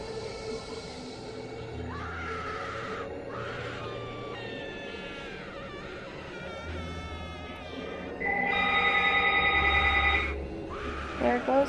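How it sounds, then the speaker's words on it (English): Cell phone ringing indoors with a melodic electronic ringtone of shifting tones, loudest in a sustained burst near the end, heard alongside a person speaking over it. "There goes my phone."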